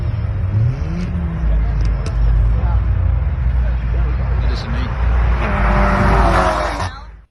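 A BMW M140i drag racing a tuned VW Golf 7R at a drag event in Breda, engines roaring loud and sustained, one rising in pitch near the start, with wind noise and a voice partly over it.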